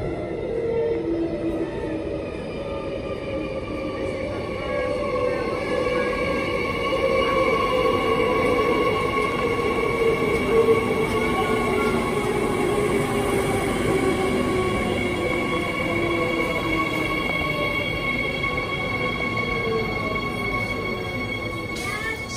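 Suburban passenger train set 56, bound for Claremont, pulls into the newly opened Bayswater station with a steady loud rumble, whining motor tones and faint wheel squeal, sustained close by without speech.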